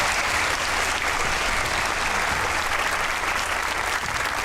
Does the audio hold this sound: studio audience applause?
yes